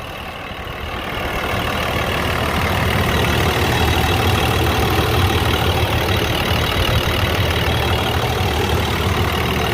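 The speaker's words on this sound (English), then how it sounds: "4700 DT466E rear steer Lightning grapple truck. Motor sounds great." A 2001 International 4700 rear-steer grapple truck with a DT466E diesel engine idles steadily and loudly close by, a continuous low rumble that swells slightly in the first seconds and then holds even, with no voices.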